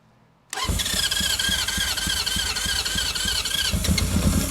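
Honda CB750F SuperSport motorcycle engine on choke catching after a brief quiet moment, then running with a loud, close, uneven idle and fluttering exhaust that grows slightly rougher toward the end.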